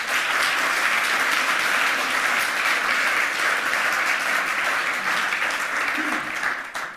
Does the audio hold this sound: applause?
yes